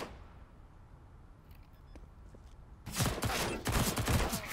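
Mac-10 submachine gun fire in CS:GO Wingman, a sudden loud burst of rapid automatic shots that breaks in after a quiet stretch and keeps going to the end, with no talk over it.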